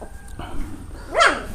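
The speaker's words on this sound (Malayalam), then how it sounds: "അവർ കുരച്ചുടങ്ങിയിട്ടുണ്ട്" A single high, yelping bark from a puppy rings out near the end, preceded by faint background noise.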